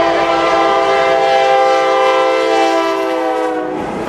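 A passing train blasts a loud, sustained multi-tone horn close by, with the rumble of rail cars underneath as the sound fades slightly at the end.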